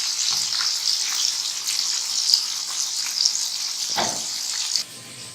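Tikka boti kebabs fry in hot oil with a dense, continuous crackling sizzle close by, holding steady for several seconds before easing off at the end.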